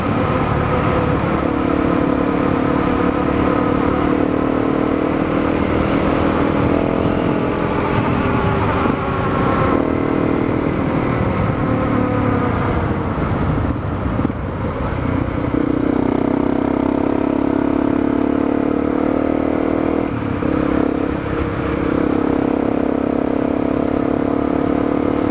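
Honda CRF250L dual sport motorcycle ridden along rural back roads in autumn, its single-cylinder engine droning loud and steady with shifts in pitch as it accelerates, joined by wind rush and some clatter, with no talking.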